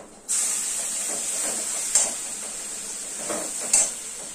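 Fried spice paste hisses and sizzles in a hot pan for a dairy paneer curry, a steady bright crackle that starts abruptly and swells with two sharper bursts as it is stirred, with no talk.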